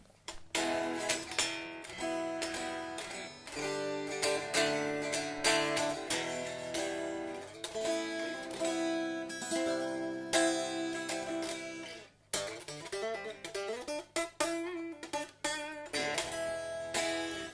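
An unplugged ESP E-II Horizon FR-II electric guitar is strummed and picked up close, thin and bright, with chord passages, a brief pause, then single-note runs.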